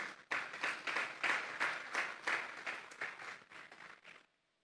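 A congregation at a Sunday church service claps in strong, rhythmic unison, about a dozen regular beats close and loud before stopping abruptly into silence.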